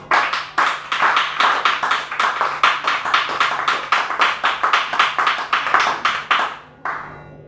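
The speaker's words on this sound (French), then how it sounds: "Acclamons pour l'Esprit de Dieu" Rhythmic, unison clapping from a church seminar congregation, about twenty sharp beats in a steady tempo, loud and close, breaking off near the end before a brief final burst.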